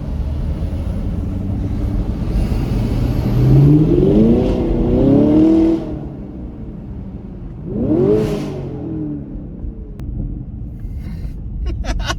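A Toyota GR86 sports car's engine revs up during driving, rising in pitch twice over a steady rumble of road and engine noise, close and fairly loud.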